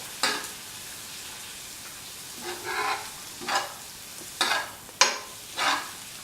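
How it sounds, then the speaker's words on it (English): Ingredients for a yam and ash gourd masala stew with coriander powder get stirred in a pan, giving about five separate scraping swishes spread out at a steady pace over a quiet background. "Mix and salt so that the coriander powder is nicely mixed with the other ingredients"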